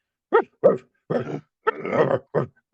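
A dog giving a series of about six gruff, growly barks, spaced irregularly and close by, some drawn out, with silence between them.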